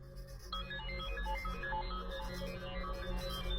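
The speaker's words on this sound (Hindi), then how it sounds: "किसकी बज रही है? आपकी जेब से आवाज आ रही है बॉस।" A mobile phone ringtone plays a bright electronic melody from inside a pocket, starting abruptly and ringing steadily, slightly muffled, over a low background hum.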